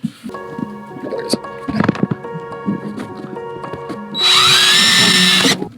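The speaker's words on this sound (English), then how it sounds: "I'm going to drill it, put it in, then I'll screw" A power drill whirs in short bursts amid clattering and handling noises while installing an alternator charger on a bass boat, then runs loud and steady at high speed for over a second before stopping.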